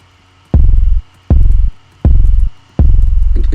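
Four heavy, booming bass-and-kick pulses in a steady rhythm, each swelling in and cutting off abruptly with brief gaps of near silence between them, loud and close.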